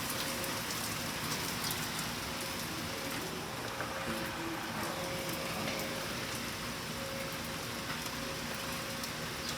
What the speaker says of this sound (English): I think really it's just raining.